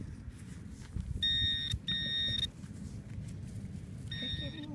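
Metal detector tone signalling a buried target during a live silver dig: two short, high, clear beeps in quick succession, then a third fainter one a moment later, over rustling outdoor background noise.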